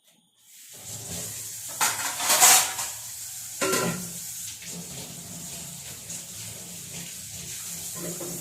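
A kitchen tap runs steadily while freshly picked ivy gourds (kovakka) are washed, with a close hissing stream of water and brief louder splashes as they are rinsed under it.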